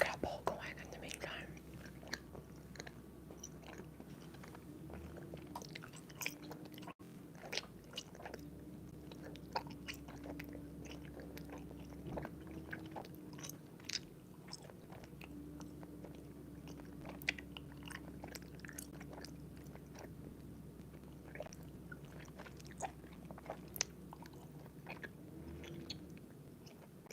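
Soft, close chewing of chewy food with moist bites and occasional crunches, steady throughout, under quiet whispering in an intimate livestream setting.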